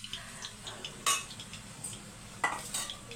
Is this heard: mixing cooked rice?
yes